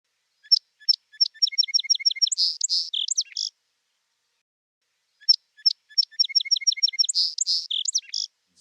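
A song sparrow sings twice, each phrase opening with spaced sharp notes, then a rapid trill in the middle and a closing flourish of buzzy, slurred notes, clear and close against silence.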